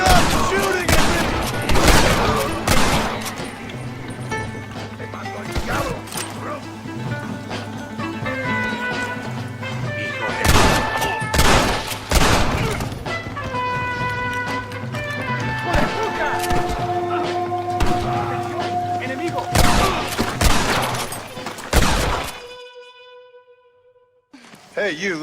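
Gunfire in the Western game Red Dead Redemption, with a series of loud, separate shots spread across a busy scene with background music and voices, ending in a sudden drop to near silence.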